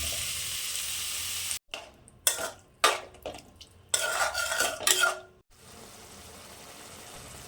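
Beans, carrot, peas and potato with onions and a little water stirred in a pan, with scraping and clattering bursts of a spoon against the pan over a steady low sizzle, then settling back to a quiet simmer.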